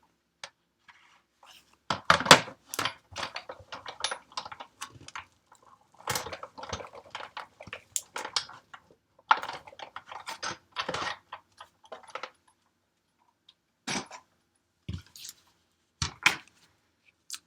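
A die cutting machine feeds paper through for a DIY poinsettia Christmas ornament, giving bursts of close mechanical clicking and ratcheting that stop and start with short pauses.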